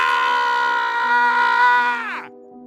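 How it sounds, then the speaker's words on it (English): A loud, savage scream effect, a single sustained, harsh howl held for about two seconds that bends downward and cuts off, leaving a low hum behind. "they hear an earth-shakingly loud scream"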